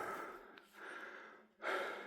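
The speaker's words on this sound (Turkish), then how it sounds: "Nefes nefese." Heavy, close panting after climbing a slope on a walk in Elazığ: three ragged breath bursts separated by short pauses, with no talk.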